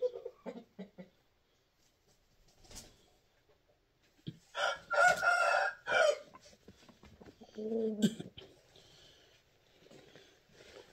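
A rooster crows loudly and close by in one long, strained cock-a-doodle-doo. Scattered clucks and short calls come before and after it, with quiet gaps between.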